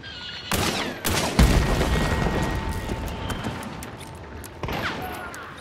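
Gunfire in the video game Hunt: Showdown: several loud, sharp shots with booming echoes ring out, followed by a sustained rumbling tail and a fainter, more distant shot near the end.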